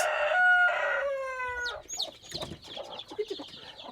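A rooster crows loudly nearby in a village in Georgia, followed by a flurry of clucking and chattering from several chickens.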